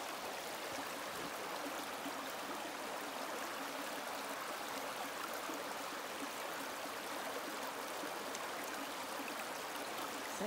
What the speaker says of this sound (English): Say goodbye to the stream,